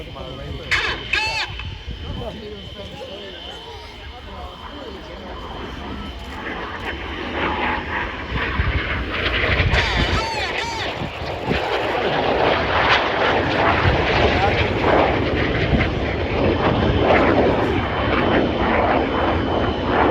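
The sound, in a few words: RAF Red Arrows jets flying Crossbow manoeuvre at air show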